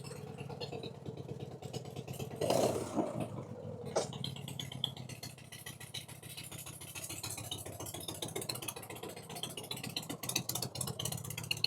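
A 1990 Harley-Davidson Fatboy fitted with an S&S Super E carburetor is ridden, its engine rumbling steadily with a brief louder surge early on and constant road and wind noise throughout.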